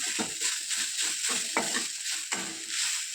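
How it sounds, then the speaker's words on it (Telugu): Tender tamarind leaves fry in oil over low-to-medium heat, a constant crackling sizzle punctuated by rhythmic scrapes and stirs of a spatula against the pan, close and moderately loud. "ఆయిల్లో వేసి వేయించుకోవాలి మంటను తక్కువ పెట్టుకొని వేయించుకోవాలండి"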